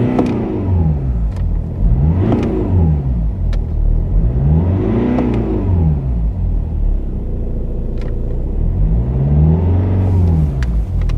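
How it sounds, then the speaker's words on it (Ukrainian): A BMW 320d diesel engine revs repeatedly, with loud, close rising and falling sweeps in steady cycles of about three seconds and a rumbling idle between them. "Зараз я неї прогрію, прогазую."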